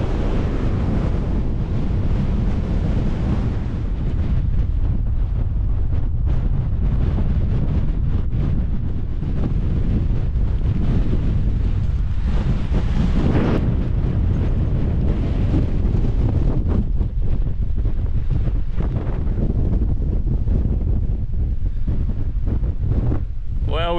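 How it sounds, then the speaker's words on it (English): Brutal, strong wind buffets an exposed mountain campsite in the Lake District in snow, roaring steadily and loudly across the microphone with continuous gusting rumble throughout. "this wind, because it is brutal"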